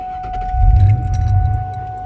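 Ignition key jangling and turning in a manual stick-shift car, a short metallic rattle of keys close by with a low hum underneath, brief and alone.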